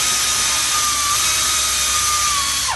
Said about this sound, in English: Remove this bolt securing the ABS harness.